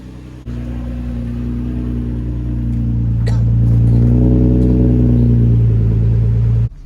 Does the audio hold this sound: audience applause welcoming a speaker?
no